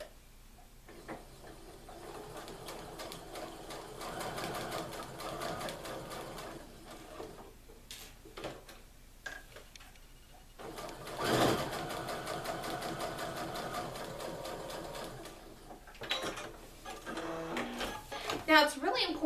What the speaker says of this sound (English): you can just put that through your sewing machine